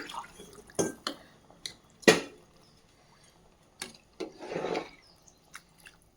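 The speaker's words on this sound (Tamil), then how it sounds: "இப்போ இதுக்கு தேவையான அளவுக்கு தண்ணியை ஆட் பண்ணிக்கோங்க" Water is poured in short bursts, splashing and trickling into a cooking pot while making chicken biryani, with a few light knocks and drips between pours.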